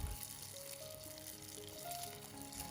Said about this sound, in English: drop the dough into the fryer